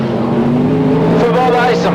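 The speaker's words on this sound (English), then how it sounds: "Scream in the 4X car as he comes around, takes off turn 4 nicely down the main straight" Sprint car racing through a speedway turn and down the main straight, a loud sustained engine roar with a droning pitch that swells as the car passes, under a commentator's voice.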